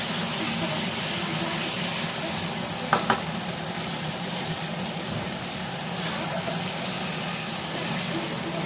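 A spice mixture with chilli powder fries in a pan, giving a steady, even sizzle throughout, broken near the middle by a couple of brief clinks.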